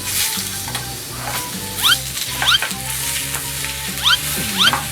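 Pork being stir-fried in a pan for Thai basil stir-fry, with a steady close sizzle and the scrape of a spatula against the pan, plus a few sharper hisses and clatters.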